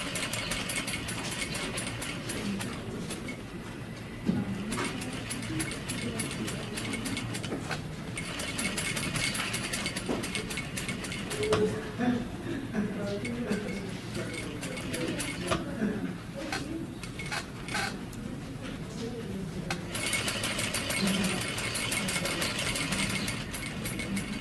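A sewing machine bastes a patch pocket at a quarter-inch seam, running in a continuous rapid mechanical chatter with short pauses and restarts, close by and moderately loud throughout.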